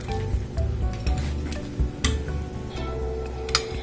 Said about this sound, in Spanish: vamos a llevar a dorar nuestros ingredientes